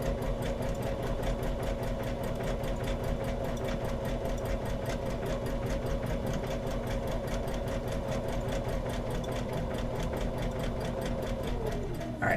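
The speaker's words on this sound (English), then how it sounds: "I'm getting ready to cross over that earlier piece, and I'm just going to continue stitching up." Sewing machine stitching along fabric for a DIY Easter lily appliqué, crossing over an earlier sewn piece: a fast, even mechanical chatter of needle strokes running continuously at close range, with no talk over it.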